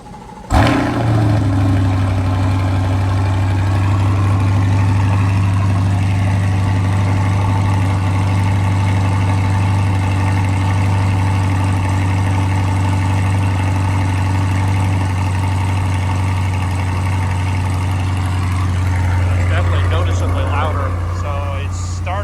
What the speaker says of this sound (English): We'll do a cold start just like we did.